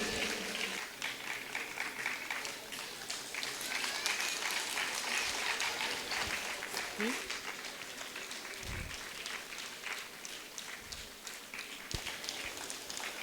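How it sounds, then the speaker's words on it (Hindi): Audience applause at an International Nurses Day celebration at AIIMS, a sustained, fairly distant wash of many hands clapping in a hall, with a few low thumps and faint voices beneath. "तालियों की गड़गड़ाहट ऑडिबल होनी चाहिए"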